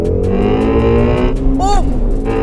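A 2016 Shelby GT350 engine roars loudly and steadily at high revs, its dense harmonic growl held close throughout with a brief rising whine partway through.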